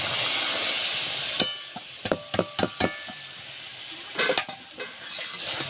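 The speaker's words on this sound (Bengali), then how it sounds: "এখন দিয়ে দিচ্ছি সেদ্ধ করে রাখা মোচা আর আলু।" Boiled banana flower and potato hit a spice paste in a pan, with a steady sizzling fry and a run of sharp stirring clatters from a utensil against the pot.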